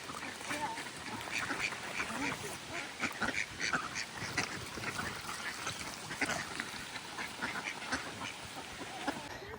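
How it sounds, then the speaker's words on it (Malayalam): A flock of ducks in an English village, lured along with food, follows a person and quacks repeatedly in an irregular chorus, with faint background voices and outdoor ambience. "ഇപ്പൊ എല്ലാ താറാവും അവന്റെ പുറകെയാ."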